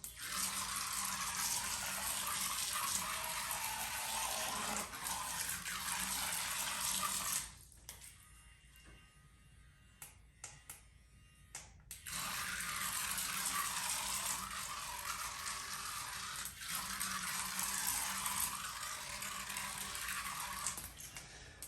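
A tiny Adventure Force Nano RC boat buzzes steadily through water with a thin, high whirring hiss, cutting out for a few seconds midway before resuming at the same close, even level.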